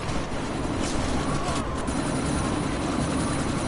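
A helicopter in Deus Ex: Mankind Divided roars in a dense, continuous drone through a sandstorm, loud and close with steady rotor wash and no spoken words.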